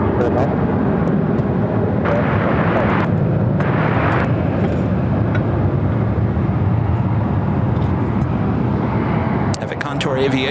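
Embraer ERJ 135ER regional jet at Phoenix airport, a loud steady engine roar filling the whole stretch with broadband rumble and hiss, while voices talk over it throughout.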